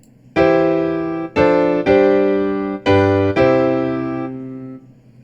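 A 4-3 compound cadence in four voices: sustained chords as five struck blocks with a brief gap before the final resolving chord, which rings out and fades.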